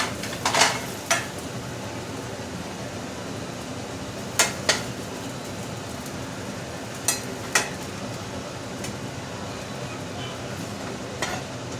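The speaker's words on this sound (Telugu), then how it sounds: "చూడండి ఫినిష్ అయిపోయింది మ్యాగీ. మనం ఒక బౌల్లో వేసుకుందాం." Cooked egg Maggi noodles are served from a pan into a bowl, with a low continuous background hiss and a handful of sharp utensil clinks and scrapes scattered through.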